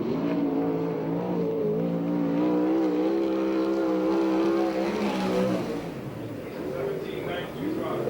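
A USAC/CRA sprint car runs laps at the So Cal Fair track in Perris, California, its loud, steady engine drone holding a high note before easing off and fading toward the end, with voices over it.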